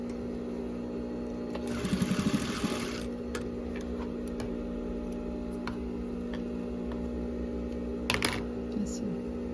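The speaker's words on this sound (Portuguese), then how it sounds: "agora nós vamos passar uma costura que vai vir daqui até no final dessa daqui" Sewing machine running a short burst of stitches along a seam on a baby jumpsuit, fairly close, followed by small handling clicks and quiet background hum.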